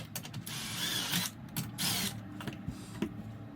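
Screws are removed from a Pioneer DDJ-REV7 DJ controller under repair for liquid damage, giving faint, close clicking and ratcheting bursts of a screwdriver turning, irregular and separated by brief pauses.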